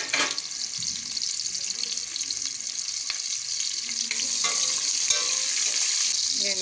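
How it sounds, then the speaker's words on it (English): Red palm oil sizzling and frying in a cooking pot while being stirred for a pumpkin leaf sauce, a loud close crackling hiss with scraping stir sounds that swells louder near the end. "So I'm adding my red oil."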